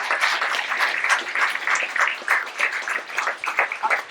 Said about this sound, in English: I think a round of applause for that, just from that alone.